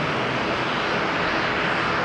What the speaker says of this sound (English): international is going to be doing a slightly shorter takeoff flight, so very interesting.